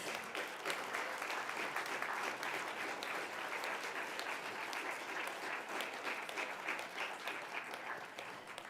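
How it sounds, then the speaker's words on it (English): An audience at a quiz bowl and awards ceremony claps for the competitors, a steady, even round of applause heard at a moderate distance with no speech over it. "please just give all the competitors a round of applause."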